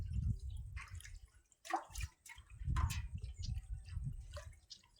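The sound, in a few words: water being handled in a vessel while cooking mutton curry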